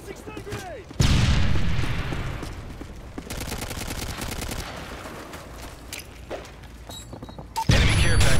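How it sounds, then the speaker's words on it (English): Call of Duty Modern Warfare combat, with a sudden loud concussive burst like a stun grenade going off, then sustained rattling gunfire, a quieter gap with scattered shots and another abrupt loud burst near the end. "Tossing stun grenade!"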